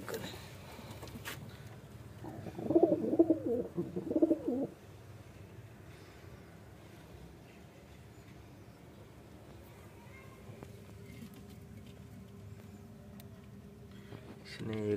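Pet pigeons in a home mini-zoo coo in a short burst of soft, low throaty calls near the start, then go quiet under a steady background hum.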